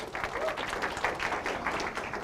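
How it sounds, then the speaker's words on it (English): A room full of people applauds after a first-aid tourniquet demonstration, the clapping dense and lively with a few louder claps poking through and faint crowd murmur underneath. "Give Natalie a round of applause"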